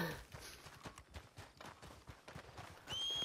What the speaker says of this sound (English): Someone's being dragged to death by their horse.